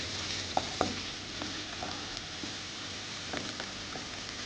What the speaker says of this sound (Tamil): வெங்காயம் வந்து பொன்னிறமாக வதக்கணும்.